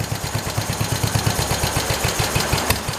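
A swapped 1968 Kohler engine in a 112 runs with a steady, rapid low thumping pulse, loud and close, holding an even idle-like rhythm throughout with no voices.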